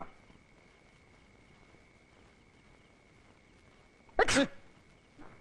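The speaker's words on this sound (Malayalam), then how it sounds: "ഞാൻ തുമ്മിയതാ." A single short, loud sneeze bursts close by after several seconds of quiet room tone with a faint steady hum. A fainter brief sound follows near the end.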